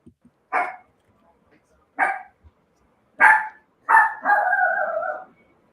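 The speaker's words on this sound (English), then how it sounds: "the dog is also barking." A dog barks indoors: three short separate barks followed by a longer drawn-out bark, loud and close, with no talking over them.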